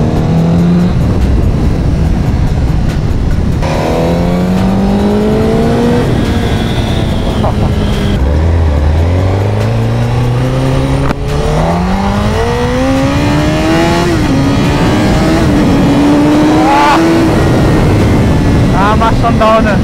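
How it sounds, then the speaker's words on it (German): Honda CBR 1000 RR motorcycle accelerating, a loud close engine revving up through rising pitch sweeps with gear changes, held over about twenty seconds while someone talks over it. "Also wenn du hier am Gas anziehst"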